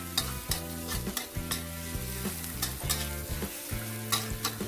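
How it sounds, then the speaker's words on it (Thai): Steady sizzling and frying with repeated scraping and clanking as garlic is stirred briskly over high heat in a large iron wok, no voices. "ผัดจนกระทั่งกระเทียมนะคะเขามีสีเหลืองนะคะแล้วก็มีกลิ่นหอม"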